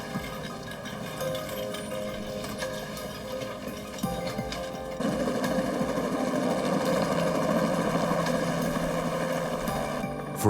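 A medical airlift helicopter flying, a continuous droning engine and rotor hum that grows louder partway through and holds steady.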